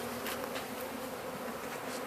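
Honey bees being loaded into an MCG hive hum in a dense, continuous buzz, close and steady throughout with no talking.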